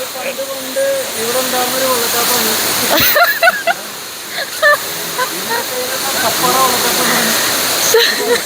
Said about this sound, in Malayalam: വെള്ളച്ചാട്ടത്തെ പറ്റി എക്സ്പ്ലെയിൻ ചെയ്യോ രഞ്ജിത്തേട്ടാ?